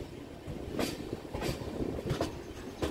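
A Kharagpur–Howrah galloping local train rolls along, its wheels clicking and clattering over rail joints in a quick rhythmic run, moderately distant and steady.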